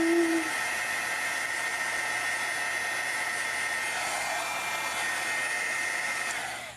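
A hair dryer blows steadily and close at a watercolor and ink painting, giving a continuous airy roar that holds evenly from start to end before easing off slightly.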